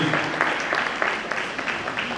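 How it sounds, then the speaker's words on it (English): A conference audience claps briefly, a light scattered patter of applause at moderate distance in a large hall, with no one speaking over it. "can you clap for all of them who thought it very necessary?"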